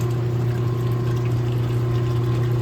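Pump pushing flushing water through a kinked hose at over 100 psi, a steady loud hum with a constant rushing wash, no break across the stretch.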